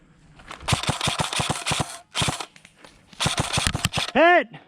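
Airsoft guns fire in quick bursts and single snaps during an outdoor capture-the-flag match, loud and close, with short pauses between volleys and a rising whistle-like tone at the end.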